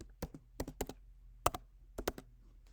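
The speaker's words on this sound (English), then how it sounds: "I will be typing any random answer." Typing on a computer keyboard: a handful of sharp, close key clicks in short irregular bursts with quiet gaps between them, no talking.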